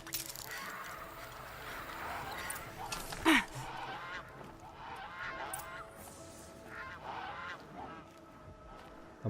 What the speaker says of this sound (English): A bunch of geese just flew off.